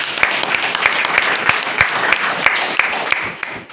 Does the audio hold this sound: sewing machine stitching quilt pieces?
no